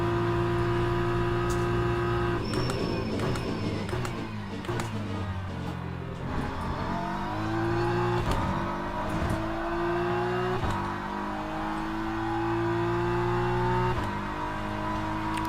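Race car engine in the sim racing game Le Mans Ultimate, droning steadily throughout with rising and falling pitch as it accelerates and shifts through gears, loud and continuous.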